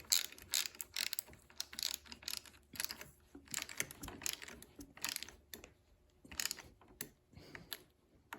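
A ratchet works on the bolts of a Lifan KPR 200 motorcycle front fork, giving quiet, close, irregular bursts of metallic clicking with short pauses between strokes and no talking.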